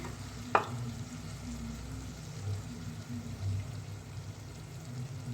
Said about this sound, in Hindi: तो यहाँ मैंने 4 अदद अंडे लिए हैं और ये मैं इसमें ऐड कर दूँगी इसी तरीके से